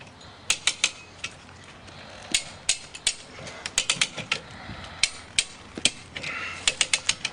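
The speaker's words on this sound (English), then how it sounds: "You can see that ratchet action there." Ratchet working to pull a tree over outdoors, sharp metallic clicks in quick irregular clusters, close and fairly quiet over a low background hiss.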